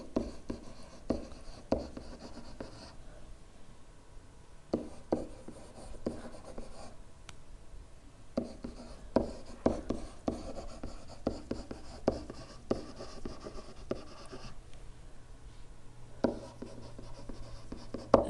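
Steady tapping and scratching of a stylus writing on a tablet, irregular strokes and clicks continuing throughout, fairly close, over faint background noise.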